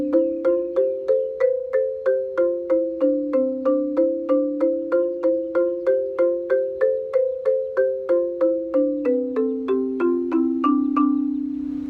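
Marimba passage played as a steady stream of evenly spaced mallet strokes, about three per second, with a bright melodic line over lower stepping notes, close and clear with no talk.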